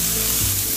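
Bell peppers for pav bhaji fry in a hot pan with a loud, steady, close sizzle throughout the brief moment.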